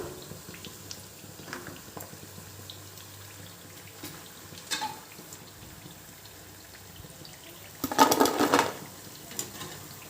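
Snack batter frying in hot oil in a home kitchen: a faint, steady sizzle with small pops, then a louder burst of bubbling near the end, heard up close with no talk.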